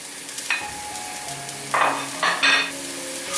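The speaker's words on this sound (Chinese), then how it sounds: "锅内放入少许油，油热了之后放入芹菜，" Celery stir-frying in hot oil in a wok, close sizzling with several loud bursts of hissing and scraping as the pieces are tossed, pausing briefly between strokes.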